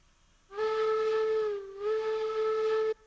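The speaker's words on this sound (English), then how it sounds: "Confident whistle." A steam locomotive whistle in the railroad game Railroads Online sounds two long, loud, steady tonal blasts separated by a brief dip, with no talk over it.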